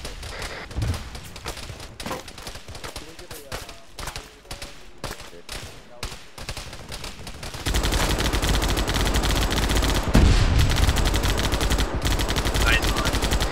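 Rapid automatic gunfire and scattered single shots crackle through an Arma 3 firefight, at first in separate bursts and then in a dense, loud, sustained barrage. Voices talk over the shooting.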